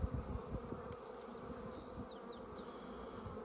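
Honeybees buzz around an open hive, a continuous low hum from many insects with a few single bees whining past nearby, fairly soft and steady throughout.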